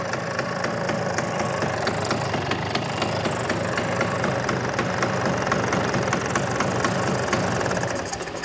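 Vintage Vespa P200E scooter, started after sitting over two years, idling with a dense, rattly, knocking engine note that runs steady and close for the whole stretch.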